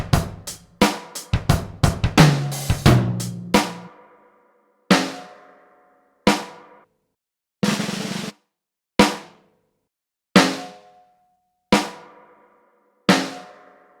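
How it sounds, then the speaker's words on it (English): Snare hits run through a spring reverb impulse response from a Roland RE201 Space Echo tank: a rapid cluster of sharp drum strikes, then single evenly spaced hits, each with a short metallic decaying tail. "So it's the spring reverb tank from a Roland RE201 Space Echo."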